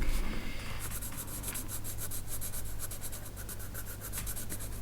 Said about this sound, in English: I'm starting with my Luminance white pencil here to bring in the highest highlights